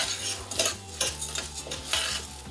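Couscous toasting in butter in a pan, stirred with a utensil: a few distinct scraping strokes against the pan over a soft sizzle, close and fairly quiet, no voices.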